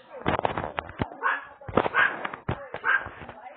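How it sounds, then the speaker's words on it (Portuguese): A dog pet in a video game barks and yips in quick repeated bursts, several short yaps with whimpering tones, fairly loud and close, with a faint voice underneath. "Outro cachorro."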